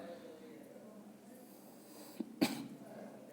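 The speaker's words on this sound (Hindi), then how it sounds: "बीच बीच में खांसी आ सकती है, उसके लिए सॉरी" A single short cough breaks through a quiet room, near and fairly sharp, with a faint catch just before it.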